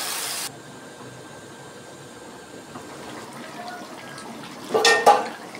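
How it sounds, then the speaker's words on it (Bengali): Water poured into a pan of taro and chicken curry: a brief splashing rush near the end, after a quiet simmering stretch, with a short burst of sizzle at the start. "আমি এবার দিয়ে দিচ্ছি জল।"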